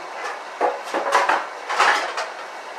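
A spoon bastes a filet mignon steak in a pan, giving a series of close, bright metallic clinks and scrapes against the pan in an uneven rhythm over a soft background sizzle.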